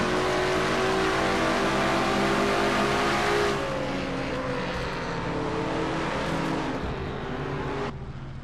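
Engine of the number 11 Ford race car in a NASCAR racing game at Richmond at night, a loud sustained revving roar with steady harmonic drone that shifts pitch midway and drops slightly near the end, no talk.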